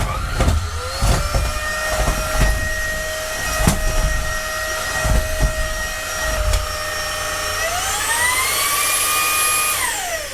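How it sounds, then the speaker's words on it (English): A household vacuum cleaner runs through the house, a sustained motor whine with steady harmonics, punctuated by bumps and knocks as it moves, then a rising pitch as the suction surges near the end. "let me get hoovering"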